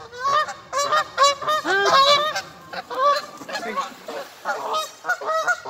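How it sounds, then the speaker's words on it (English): A goose honks repeatedly as it comes in to land, a loud, close run of harsh nasal calls in quick uneven bursts that continue throughout. "we have a goose that's coming in for landing"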